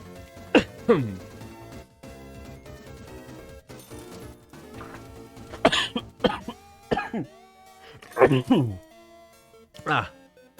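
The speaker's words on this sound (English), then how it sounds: "My coughs are getting a little more violent" Several harsh, forceful coughs and throat-clearing bursts spaced irregularly, close and loud, with quiet stretches and game sounds in between.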